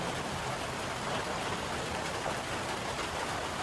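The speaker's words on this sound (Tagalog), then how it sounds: "Inani ra ka kusog ng ulan" Heavy rain during a storm, a dense, constant roar of downpour filling the whole stretch with no breaks.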